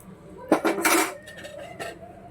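Tempering is poured into mango-leaf dal in a cooking pot, giving a short burst of metallic clatter and scraping from the pot and spoon, with a few loud clinks in the middle and no talking.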